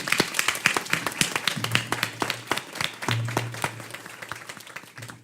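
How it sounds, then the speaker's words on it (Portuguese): Audience applause at a young lawyers' manual launch event, with individual hand claps distinct and crisp in a smaller crowd, irregular and lively, tapering off toward the end. "a qual eu peço uma salva de palmas."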